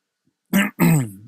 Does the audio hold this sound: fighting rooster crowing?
no